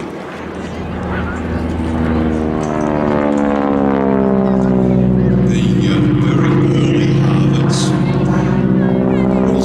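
A North American Harvard IIA AT-6C propeller trainer, EX490, drones loudly and steadily close by, its radial engine note rising and shifting in pitch as it passes, with a strong continuous roar throughout.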